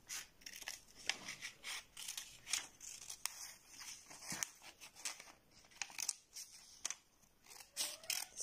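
Scissors snip through paper in a quiet indoor setting, a series of soft, crisp cuts and rustles arriving in uneven bursts, close and faint, with no talk.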